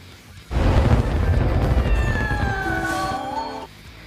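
A burst of crackling, popping firecracker explosions in the air fills the clip, with rumbling booms and a high whistling tone rising near the end before it cuts off, in an animated film.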